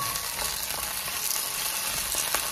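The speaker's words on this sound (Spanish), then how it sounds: "Ahora le pongo cebolla, ají cubanela y ají el rojo, el morrón. Vamos a sofreírlo muy bien." Onion, cubanelle pepper and red bell pepper sauté in oil for a longaniza dish, giving a dense, steady sizzle close by with a few light scrapes of stirring and no voices.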